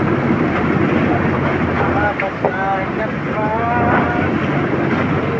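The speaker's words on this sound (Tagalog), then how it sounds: "Medyo malalaki ang halaw at mahangin." Strong wind buffets a fishing boat at sea in big waves, a loud continuous roar of gusts and water wash with faint engine and voices partly masked beneath.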